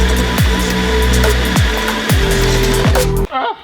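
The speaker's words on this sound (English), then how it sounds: "Got a rough little hole that we have to cut out." A power tool cuts a rough hole in aluminum to fit a supercharger blow-off valve. It gives a loud, close, high-pitched whine that bogs down in several repeated drops as it bites, then cuts off at the end.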